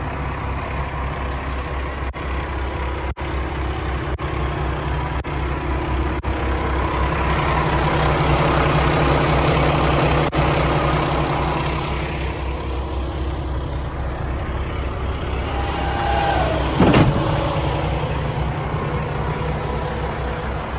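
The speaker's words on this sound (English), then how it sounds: "T880 quad axle dump with an Allison automatic transmission" A 2016 Kenworth T880 quad axle dump truck with an Allison automatic transmission idles steadily, a low heavy diesel rumble close by, with a few faint clicks and a brief sharp knock near the end.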